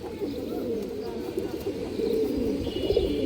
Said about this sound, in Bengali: ক্রিম চোখের কবুতর ইন্ডিয়ান হাইফ্লাই কালদম